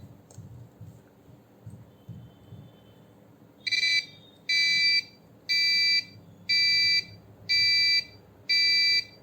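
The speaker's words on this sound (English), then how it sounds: "So this looks like a good buzzer sound." Loud electronic beeps from an Arduino buzzer module in a steady on-off pattern, six evenly spaced tones, after a quieter stretch of faint hum.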